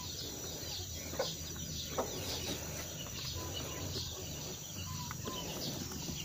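Soft, scattered quail calls, short chirps and clucks, come from small caged quails over a quiet, hissy background, a few seconds apart.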